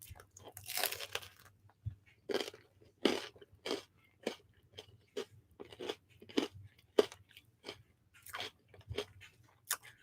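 Someone chews crunchy food close to the mic, a run of sharp crisp bites and crunches in an uneven rhythm over ten seconds, with no talking.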